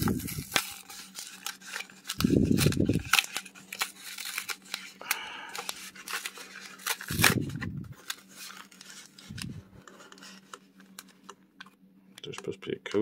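Up close, a Walgreens mystery trading card pack is torn open in crinkly foil bursts and sharp rips among dense rustling and clicks, with a voice talking over parts of it.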